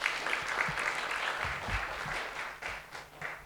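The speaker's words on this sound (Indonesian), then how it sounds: "Ya, tepuk tangan kita lebih." Applause from a church session audience, steady crowd clapping at a distance, fairly faint, continuing for a few seconds and thinning near the end.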